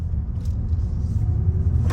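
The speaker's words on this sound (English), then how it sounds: "Taking a step out here, light throttle," A 2024 Mazda 3 Premium with a manual clutch pulls away on light throttle, giving a low steady engine rumble heard from inside the cabin, fairly loud and without speech.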